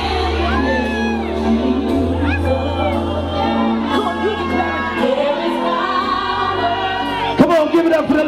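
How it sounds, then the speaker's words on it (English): Wedding guests cheer, whoop and shout for the bride and groom at a celebration of 37 years of marriage, a loud sustained crowd roar with music underneath, rising in a burst of cheering near the end. "Y'all make some noise for Mr. and Mrs. Gale."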